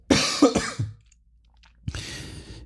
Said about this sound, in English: I'm coughing. Hold on.